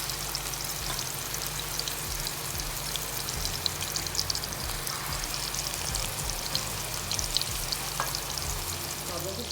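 Galawati kebabs frying in hot oil on a moderate flame: a continuous dense sizzle and fine crackling like light rain, steady and close, with occasional small pops and no talking.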